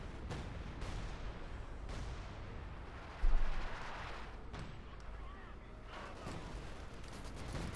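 Artillery strike landing in Company of Heroes 2, a single loud, sharp blast partway through that rings out briefly, set against a steady bed of distant battle noise and scattered gunfire.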